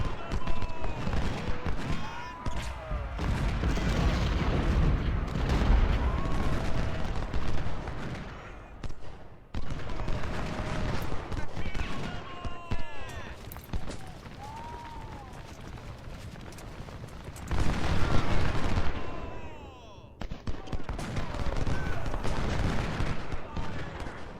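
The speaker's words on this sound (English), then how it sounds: "Firing at extreme range here, both these skirmishers." Skirmishers fire muskets in the Civil War strategy game Ultimate General Civil War, ragged volleys and scattered shots crackling in repeated bursts with brief lulls, mid-distance and moderately loud, voices faintly in the mix.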